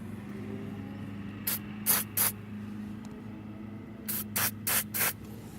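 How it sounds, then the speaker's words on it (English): Short hissing bursts of aerosol lubricant sprayed onto a car's moving parts such as bolts, two to three quick spurts, a pause, then four more, close and clear over a steady low hum. "Spraying all the moving parts."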